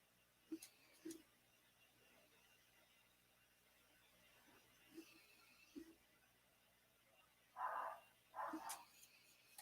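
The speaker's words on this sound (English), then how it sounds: "some dog is going nuts" A dog barks in the distance, a few faint, scattered barks that come in separate bursts over quiet background noise.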